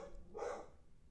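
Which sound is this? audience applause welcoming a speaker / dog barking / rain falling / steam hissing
dog barking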